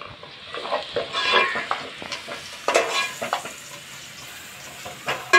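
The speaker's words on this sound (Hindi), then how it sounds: "अब इसमें जो है मैं लहसुन ऐड करने लगी हूँ।" Garlic sizzles and crackles in hot oil as a spoon stirs it around the pan, with scraping strokes and bursts of frying close up, cooked for a village-style turai (ridge gourd) salan.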